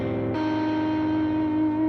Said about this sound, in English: So minor 7 flat 5 chord sounds like this.